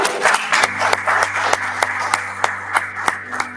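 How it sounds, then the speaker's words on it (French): Applause for a football coach of the Ivory Coast national team, the Elephants, after a World Cup qualifying campaign; a steady room of clapping hands with sharp individual claps standing out, continuous and fairly loud, with a low hum underneath. "On l'applaudit."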